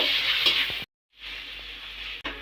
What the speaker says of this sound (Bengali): এখন দেব এক চামচ বাটা রসুন আমি আবার একটু নাড়াচাড়া করে নেব